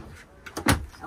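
A drawer in a Thor Tranquility 4x4 RV on a Mercedes-Benz chassis opening or closing, a short sliding rumble ending in a soft thump, close by.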